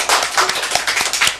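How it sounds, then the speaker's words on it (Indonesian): A small group claps for an arriving guest, a brief burst of fairly loud, dense, rapid hand clapping. "Tepuk tangan dulu dong semuanya."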